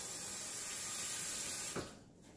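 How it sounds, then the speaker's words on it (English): Rinsing soapy water off a gun during cleaning, a steady hissing spray of running water that cuts off abruptly near the end, leaving a quiet drip. "Then what I do is I rinse off the soapy water."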